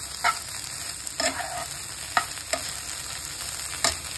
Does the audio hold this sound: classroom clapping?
no